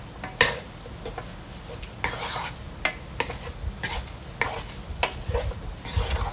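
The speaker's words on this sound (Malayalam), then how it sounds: "ഇതെല്ലാം ഇട്ടിട്ട് ഒന്ന് മിക്സ് ചെയ്യാം." Roasted coriander powder and spices stirred in a hot pan for a koorkka and beef dish, a spoon scraping in repeated strokes over a continuous sizzle, close and clear.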